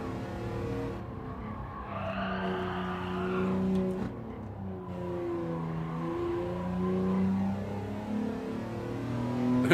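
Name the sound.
race car engine in high gear, racing video game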